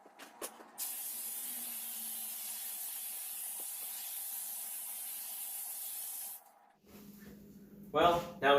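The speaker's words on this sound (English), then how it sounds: "now we have it all sprayed down with the acid" Acid sprayed across a concrete basement floor during a cheap remodel, a steady close hiss lasting several seconds that cuts off before brief scrubbing and handling noises.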